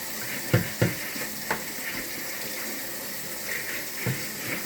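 Tap water runs into a kitchen sink while pork ribs are being prepped, with a steady wash of flow and a few sharp clinks and splashes of dishes early on.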